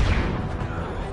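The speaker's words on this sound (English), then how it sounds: "Oh, grenade toss." A grenade explosion in Uncharted 2: Among Thieves, a loud, heavy boom at the very start that decays into a rumbling tail over a second.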